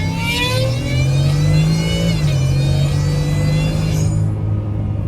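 Supercharged 795 hp V8 Ford F-150 work truck at full throttle: loud, continuous engine roar with rising revs and a steady low rumble, heard close up throughout, no talking.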